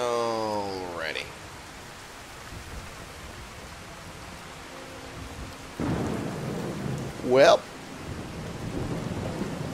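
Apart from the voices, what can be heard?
thunder during rainstorm in Skyrim video game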